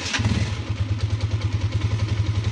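A small engine with a faulty spark plug, revved quickly, giving a loud close, uneven chugging pulse with clattering mechanical rattle and steady rhythmic firing throughout.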